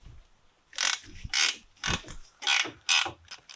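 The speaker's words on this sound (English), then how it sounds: "I'm using like a long ratchet spanner here" A long ratchet spanner clicks through repeated short bursts while loosening tight 18mm bolts on the front brakes of a 2014 Ford Focus, six separate close ratcheting strokes with brief pauses between.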